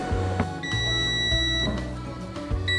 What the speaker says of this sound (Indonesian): Kalau misalnya dia timernya udah selesai, bunyinya kayak gini.